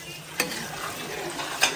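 Rice stirred with a spoon in a pot while making pulao, a low hissing sizzle with two sharp scrapes of the spoon against the pot, no talking.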